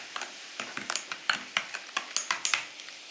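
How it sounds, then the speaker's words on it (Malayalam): A spoon stirring a virgin mojito mocktail with lemon and mint in a glass, giving a rapid, regular series of bright clinks against the glass, close and clear with no talking. "നന്നായിട്ട് ഇളക്കിയിടുക."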